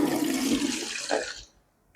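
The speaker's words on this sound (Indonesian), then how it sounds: "kemudian kita tuangkan airnya." Water pours out of a Buddhist offering bowl, a close, steady splashing gush lasting over a second, then a short final spill before it stops and falls silent.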